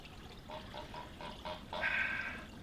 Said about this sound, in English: push it underneath. There we go, so it's completely underwater now.